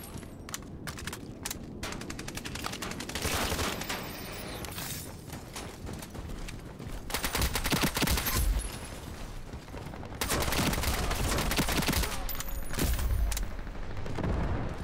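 AK rifle fire in an Ironsight video game, dense rapid bursts and crackling volleys, loud and continuous with short pauses between strings.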